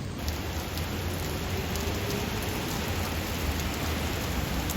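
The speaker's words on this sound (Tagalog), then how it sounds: "sobrang grabe lakas ang ulan dito" Heavy rain from Super Typhoon Yagi under Signal No. 8 in Hong Kong, a loud, dense, continuous hiss of downpour striking surfaces close by with no break.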